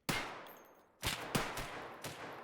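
Gunfire in the video game Escape from Tarkov: three loud broadband shot bursts about a second apart, each with a ringing decay. A fainter pop follows near the end, with no talk.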